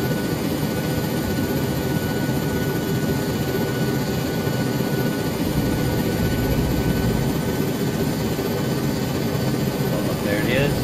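Helicopter from the ARMA 3 military game drones steadily throughout, a loud continuous rotor and engine roar that stays close and unbroken.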